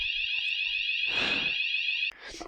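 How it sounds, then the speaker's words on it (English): A fire alarm blares in a building, a loud, continuous high electronic tone that holds steady and then cuts off abruptly, with a muffled rustle partway through and no voices. "Oh, there's the fire alarm going off."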